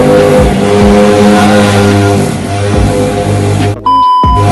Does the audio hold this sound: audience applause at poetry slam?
no